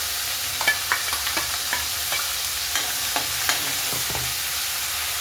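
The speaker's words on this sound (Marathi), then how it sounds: "याला तेल सुटेपर्यंत फ्राय करून घ्यायचं आहे" Ground masala paste fries in hot oil for moong dal amti, a continuous close sizzle broken by several soft scrapes and taps of a stirring spoon in the pan.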